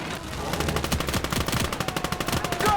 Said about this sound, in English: Machine gun position spotted. They open up.